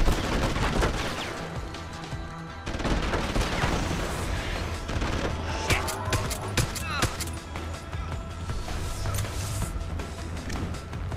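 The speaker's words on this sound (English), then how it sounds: "stupid laser gun" Laser gun firing in the video game Deus Ex: Human Revolution, rapid bursts of zapping shots mixed with impacts and explosions in a loud, dense soundtrack, with someone talking over it at times.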